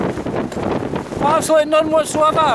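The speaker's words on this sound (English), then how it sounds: "Some of the gusts are just incredible." Strong gusty wind sweeps through the Lairig Ghru mountain pass, roaring loudly into the microphone in surging buffets while someone speaks briefly under it.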